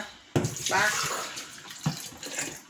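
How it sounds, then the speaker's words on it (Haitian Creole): Lemon water poured out from a container while preparing Haitian pikliz, a splashy gush of liquid with a sharp start and a second shorter pour, close and fairly loud. "Je vais vider de l'eau citron pour me prendre Maggi."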